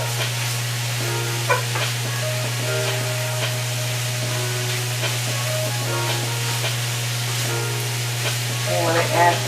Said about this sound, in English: I'm going to go ahead and add my cabbage